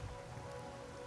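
Steady rain patters on surfaces in a video game scene, a constant dense hiss with a faint tonal hum beneath, no voices.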